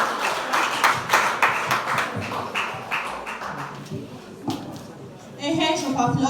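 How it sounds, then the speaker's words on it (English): Applause for student debaters at an interschool debate in Nigeria: scattered hand claps ring out over a murmur of voices and shuffling, then a voice speaks near the end. "A hand of applause for the debaters."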